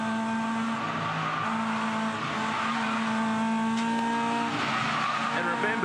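Toyota 86 series race cars on grooved Dunlop tyres sweep through a long corner at Winton, engines droning steadily with shifting pitch and tyres squealing, loud and continuous under a commentator's voice.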